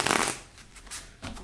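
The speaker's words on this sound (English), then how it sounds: "let's get two more shuffles" Tarot cards are shuffled in quick riffling bursts, a loud flurry at the start followed by two softer rustling passes, close up with no talk.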